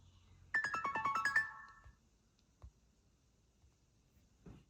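A phone chimes with an SMS notification tone during prepaid mobile setup with MagentaMobil in Germany, a quick bright run of about eight pulsed electronic notes lasting roughly a second, then near silence with a couple of faint clicks.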